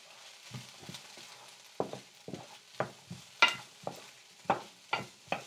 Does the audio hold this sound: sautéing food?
yes